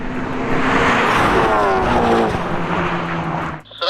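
Tuned hot hatches, a Honda Civic Type R, Golf GTI, CUPRA and Megane RS, drag racing with loud close engine roar and rising revs sustained for several seconds before cutting off abruptly.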